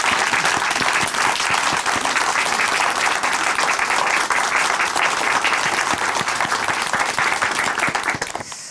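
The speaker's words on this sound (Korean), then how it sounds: "박수로 함께 응원해 드리겠습니다" Sustained, dense applause from a church audience at a Korean Christian testimony program fills the whole stretch, loud and steady, easing slightly right at the end.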